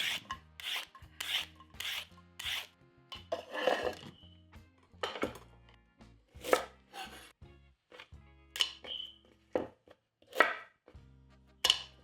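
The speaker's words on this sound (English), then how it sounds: "Roll cut carrots, or you can cut them in whatever shape you wish." Roll-cutting carrots with a knife on a board, a steady series of sharp chopping knocks with brief rubbing scrapes between them, close and clear with no talking.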